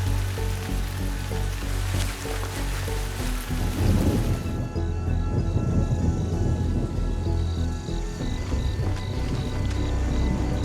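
Heavy rain pours down during a thunderstorm in Laikipia, Kenya, a steady loud hiss with a deep rumble of thunder rolling through the middle, no voices.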